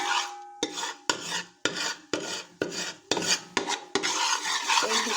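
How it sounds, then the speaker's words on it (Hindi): Gram flour (besan) is stirred and roasted in a pan over low heat: rhythmic rasping scrapes of a spatula, about nine strokes in steady succession, close and dry, with no voices. "तो 5 मिनट इसी तरह से बेसन को मैं भूनूंगी।"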